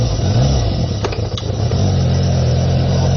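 A motorcycle on a ride, its engine droning loud and close with steady wind rush and a brief dip before holding a constant pitch.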